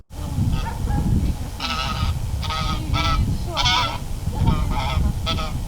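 A goose honks repeatedly in Ostvytsia park in Rivne, giving several loud, close, nasal calls over a steady low rumble of outdoor background noise.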